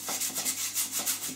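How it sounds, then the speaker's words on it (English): Something is rubbed lightly over a baking tray to grease it, giving a quiet, repeated swishing that comes in steady strokes for about a second and a half, with no voices. "Got a baking tray, and all you do is simply just lightly grease it."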